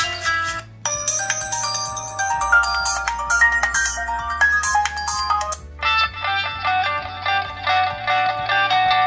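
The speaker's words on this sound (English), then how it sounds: "let's listen to some music now and see how the sound quality of this phone is." Music plays through the built-in loudspeaker of an LG G7 ThinQ phone: a dense melodic track with a steady bass line and bright layered tones, loud and close, uninterrupted by talk.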